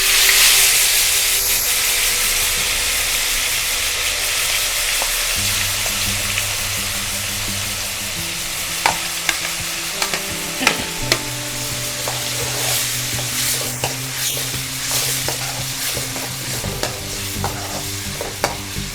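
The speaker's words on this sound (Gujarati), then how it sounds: "તેલ ગરમ થાય પછી ડુંગળીનો વઘાર કરશું." Onions hit hot oil with a pinch of asafoetida, tempering for a Gujarati-style crab curry, giving a loud, steady sizzle and hiss that are joined later by repeated clinks and scrapes of stirring.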